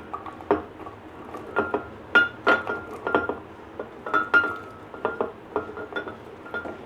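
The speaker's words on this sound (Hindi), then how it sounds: "हम जग में डालेंगे ये जो फालसे हैं।" Falsa berries tumble into a glass jug, making a close, irregular run of bright clinks and soft taps against the glass, with no one talking.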